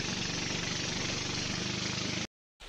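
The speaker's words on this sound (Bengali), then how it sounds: "এই ছিল আমাদের যাত্রা সঙ্গী নৌকা" A boat engine idles on a river trip in Alikadam, Bandarban, making a loud, steady chugging drone close by. It runs on evenly, cuts out abruptly near the end and then resumes.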